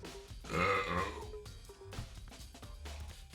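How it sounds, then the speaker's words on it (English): A loud, drawn-out burp lasting about a second, close to the microphone, followed by quieter breathing and low background sounds with no talking. "I'm gonna burp."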